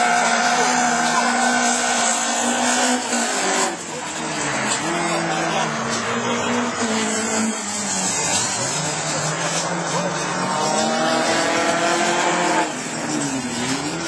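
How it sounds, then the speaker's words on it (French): Rallycross car engines scream around the Maurice Forget circuit in Mayenne, rising and falling in pitch as cars accelerate and shift, with a French commentator talking over the racing throughout. "les moteurs sont plus vifs"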